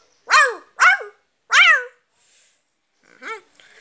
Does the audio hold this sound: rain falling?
no